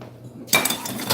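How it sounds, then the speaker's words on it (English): Dishes and pots, including an agar pot, clatter and clink as they are put away in a home workspace, a sudden burst of bright ringing knocks after a quiet moment, continuing in uneven clanks. "To put away our dishes."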